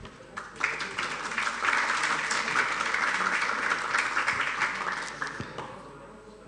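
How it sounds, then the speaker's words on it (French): Audience applause at an economic conference, a burst of many hands clapping that swells quickly, holds steady for several seconds, then thins out and fades near the end. "Je vous remercie de l'applaudir."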